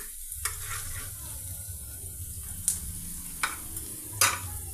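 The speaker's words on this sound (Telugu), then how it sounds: "ఆయిల్లో ఫ్రై అవుతున్నాయండి" Spinach and paneer fry in oil in a pan with a soft, steady sizzle, broken by a few sharp scrapes and clinks from stirring.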